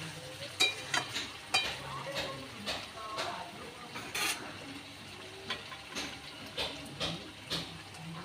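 Fried potatoes tossed into cooked-down spiced masala in a pan for potato biryani, with soft scraping stirs and light clatters of a spoon recurring every second or so over a quiet, low sizzle.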